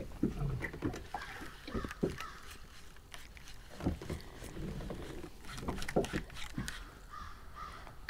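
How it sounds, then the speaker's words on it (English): A distressed loon squawks agitatedly out on a Maine lake in the morning. Its faint, distant calls come in scattered bursts over quiet water and light knocking sounds. "I hear a loon going nuts out on the main lake. It is squawking."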